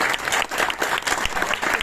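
Audience applause at a literary festival in a studio in Noida: steady, dense clapping from many hands, fairly close, with no talk over it.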